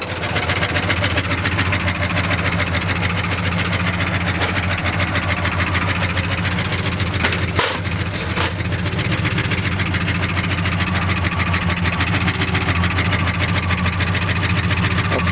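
A 1976 Ford F-250 Ranger XLT crew cab 4x4 highboy truck engine idles steadily and close by, a continuous low rumble that holds even throughout, with one brief knock partway through.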